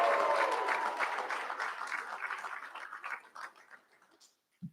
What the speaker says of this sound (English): Clapping is good, but that was a little light on the noise. Make some noise.